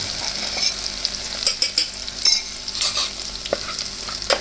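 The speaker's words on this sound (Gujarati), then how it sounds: "પછી તો આ જો લસણની પેસ્ટ જેવું બનાવ્યું હતું ને એ આપણે નાખી દઈએ." Garlic paste fries in hot oil in a pan while being stirred, a bright crackling sizzle with irregular spatters and spoon scrapes, close and fairly loud, with no voices.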